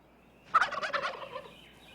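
A single wild turkey gobble, a rapid rolling burst of about a second, clear and fairly close against a quiet background.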